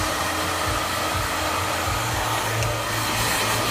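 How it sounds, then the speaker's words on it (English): A hair dryer blows steadily and loudly at close range, drying and shaping a man's fringe during a haircut, its constant whooshing roar continuing without a break and with no talking. "You see the angle of the dryer from drying out and really bringing it in at a really strong angle so you can really power that fringe"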